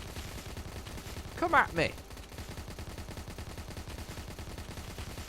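Rapid turret gunfire from the tower-defense game Road Defense Outsiders, a dense steady crackle of shots running the whole stretch, with a brief shouted voice near the middle.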